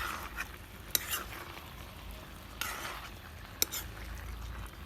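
Broiler chicken meat sautés in a pot in a village kitchen, giving a soft continuous sizzle broken by a few sharp spoon knocks against the pot.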